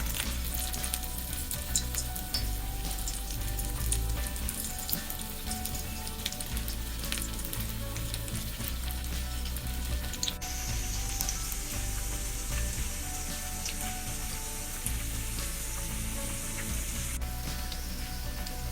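Banana flower vadai sizzle steadily as they fry in hot oil on low flame, a continuous soft crackle with no talking.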